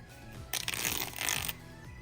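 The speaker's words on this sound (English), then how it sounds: "Let's go ahead and open up the package." Crinkling and tearing of a Dot Card package being opened, a dense burst of plastic and paper rustling lasting about a second, close and fairly loud, with quieter handling before and after.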